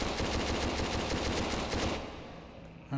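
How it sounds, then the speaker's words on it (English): An AK rifle in the VR game Hot Dogs, Horseshoes & Hand Grenades firing a rapid automatic burst of about a dozen sharp, evenly spaced shots, then stopping abruptly into quiet with a faint click. "Ah, it's an AK."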